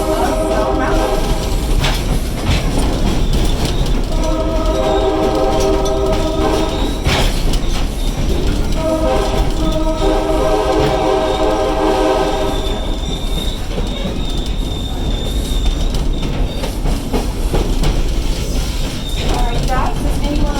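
A tourist train at Stone Mountain Park rolls steadily on its rails with a constant rumble, and the wheels squeal in long high-pitched whines several times along the way.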